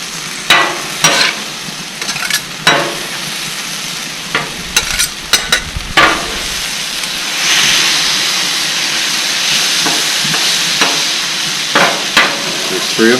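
Teriyaki beef sizzles on a griddle with a steady broadband hiss, broken by sharp scraping and stirring clicks from a spatula, louder sizzle swelling midway, with no talking.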